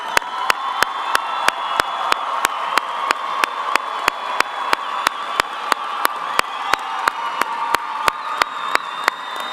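A graduation ceremony crowd at a fall 2021 college commencement claps and cheers continuously, with a sharp, regular ticking repeating beneath the sustained applause.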